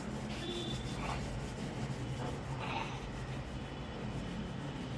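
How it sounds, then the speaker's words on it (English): Palms rubbing together steadily in a quiet room, a soft continuous friction swish with faint brief accents, close and fairly quiet, no talking. "Now rubbing your hands,"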